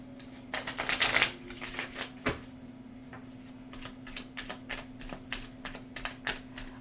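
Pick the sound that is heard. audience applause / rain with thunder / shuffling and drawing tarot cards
shuffling and drawing tarot cards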